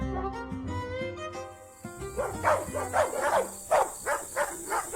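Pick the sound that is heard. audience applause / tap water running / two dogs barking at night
two dogs barking at night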